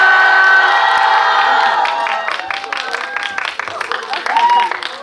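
Loud cheering and screaming from a packed cinema audience at a stage greeting for a Korean film in a CGV theater, dense clapping underneath that turns patchier, with a few whoops rising near the end.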